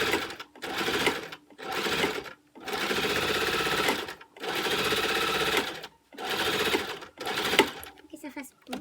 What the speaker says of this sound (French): je vais encore coudre ici.